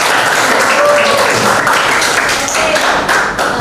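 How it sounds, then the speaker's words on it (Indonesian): A school class in Indonesia bursts into steady, dense clapping that continues loudly and close by for the whole stretch without pause. "Oke, kita beri tepuk tangan."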